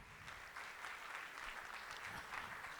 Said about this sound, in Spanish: Despedimos con un fuerte aplauso al doctor Enrique Ruiz Mori.